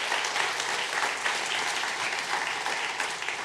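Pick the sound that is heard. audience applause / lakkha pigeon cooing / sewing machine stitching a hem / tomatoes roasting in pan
audience applause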